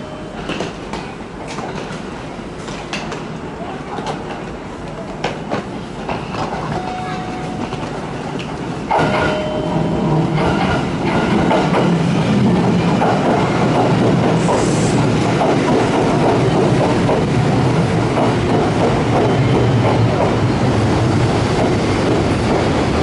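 A six-car local commuter train rumbles and clatters into a Japanese station, growing louder as it draws near, with wheel noise and a Japanese platform announcement over the din.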